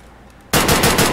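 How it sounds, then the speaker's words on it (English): Gunfire in the video game Escape from Tarkov: after a brief quiet lead-in, a loud, close burst of rapid automatic shots. "You started shooting"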